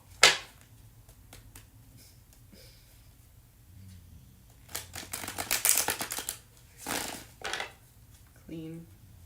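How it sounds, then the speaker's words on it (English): Stiff tarot cards shuffled by hand, with sparse riffling clicks and flutters and a denser burst of shuffling in the middle, alongside intermittent talking. "These cards are pretty stiff. Had them for a while too, I just never really shuffle them this way."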